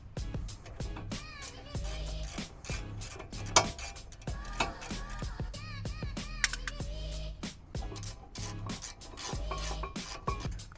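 A wrench cranks on the caliper bracket bolts of a Honda Accord with quick clicking ratchet strokes and metallic clanks, close to the microphone and fairly quiet.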